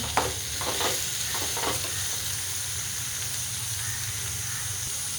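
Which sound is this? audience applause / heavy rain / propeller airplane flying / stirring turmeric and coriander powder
stirring turmeric and coriander powder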